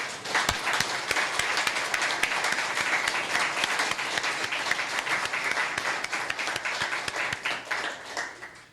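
Dense, sustained applause from a ceremony audience at a formal awards session in Caxias do Sul, with many hands clapping steadily at close range and holding strong throughout, no talk over it.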